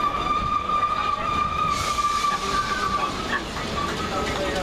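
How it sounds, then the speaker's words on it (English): A passenger train draws into a London station bound for Clapham Junction, its steady mechanical rumble and a long high whine running throughout, with a brighter surge of rail noise partway along and faint voices nearby. "This will be our train out of here."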